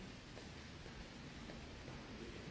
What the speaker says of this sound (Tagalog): Oh, ayan, umuulan sa labas.